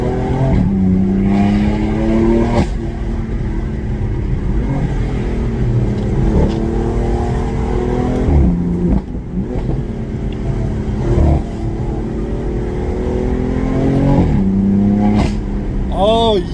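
A BMW F82 M4 coupe engine revs up and down repeatedly with sharp exhaust pops and crackles between pulls, loud and close, while people talk over it.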